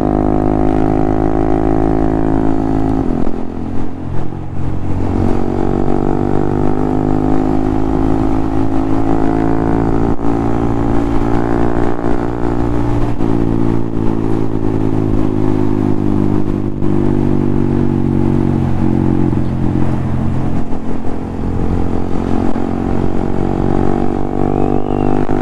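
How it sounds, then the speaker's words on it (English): A Honda Monkey 125 motorcycle from 2019 held at full throttle in second gear, bouncing off its rev limiter with a loud, steady, buzzing engine drone heard from the rider's position, plus wind noise and no talking. "Full throttle. Hitting the rev limiter, I was only in second there."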